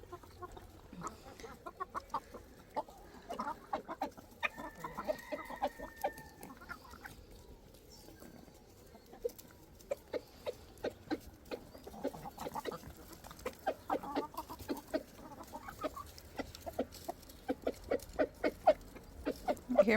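Backyard chickens cluck in quick, soft bursts at close range, with scattered pecking patter around them and no talking.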